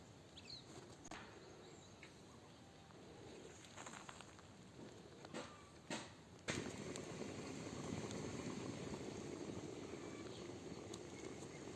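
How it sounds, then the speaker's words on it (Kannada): A pot of village-style fish curry with tamarind and chilli boils steadily, giving a soft, continuous bubbling and crackling hiss that grows slightly fuller partway through, faint and alone. "ಹುಳಿ ಖಾರ ಎಲ್ಲ ಚೆನ್ನಾಗಿ ಕುದಿಬೇಕು"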